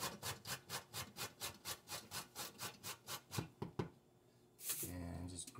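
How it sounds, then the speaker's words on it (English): Zucchini is rubbed against a vegetable grater in quick, even rhythmic strokes, about a dozen close scraping passes before a pause, followed by a brief clatter and then a voice speaking. "going to use my vegetable grater"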